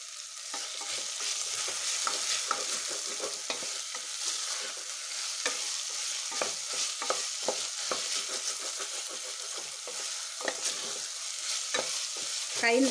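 Mixed vegetables with beans sauté in a pan, a steady bright sizzle broken by frequent stirring scrapes and clicks, close and continuous with no voices.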